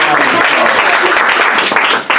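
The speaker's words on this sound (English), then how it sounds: "y'all give him a round of applause" Nightclub audience applauding a guest, a dense wash of clapping with voices talking over it, fairly loud throughout and easing off at the end.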